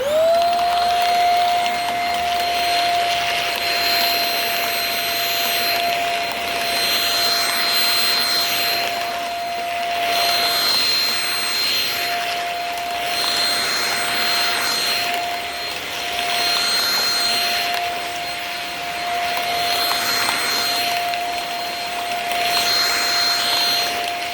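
A Shark cordless stick vacuum runs steadily throughout with a high whine and airy rush, close and constant, its pitch rising briefly at startup.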